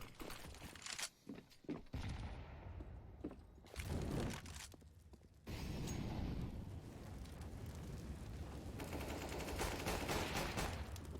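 Pistol shots ring out in a CS:GO esports match, with several sharp reports early on followed by a dense, continuous spell of loud firing and impacts from about 5.5 s onward.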